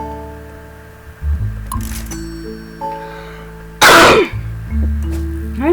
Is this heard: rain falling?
no